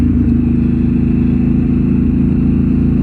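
A motorcycle engine running loud and close, a steady, deep throbbing rumble with a slight clattering edge that holds throughout without a break.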